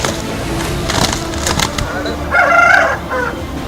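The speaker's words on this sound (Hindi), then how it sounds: "जहां इन मुर्गों को लड़ाई के लिए तैयार किया जा रहा है।" Roosters sparring as they are trained for cockfighting ahead of the Pongal festival, heard through dense outdoor crowd noise, with a brief squawk rising near the middle and voices murmuring throughout.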